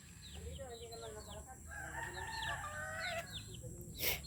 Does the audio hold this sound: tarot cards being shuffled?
no